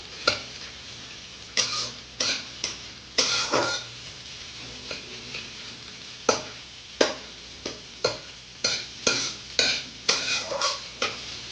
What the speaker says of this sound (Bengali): পেঁয়াজ কুচি দিয়ে দিলাম, কাঁচা লঙ্কা কুচি দিয়ে দিলাম, দিয়ে ভেজে নেব